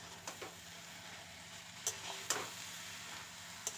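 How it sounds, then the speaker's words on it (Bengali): Betho saag greens and potatoes get stirred in a pan, with a soft steady sizzle and a few light scraping clicks of the spoon. "শাকটা দেওয়ার পর ভালো করে নাড়াচাড়া করে নিতে হবে"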